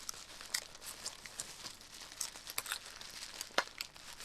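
Crinkly plastic packaging from a shipped parcel crackles and rustles close up as it is unwrapped, in quiet irregular bursts with a few sharper crunches and tearing sounds.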